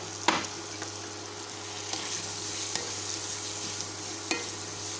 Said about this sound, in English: Mix it, and we will add this tofu.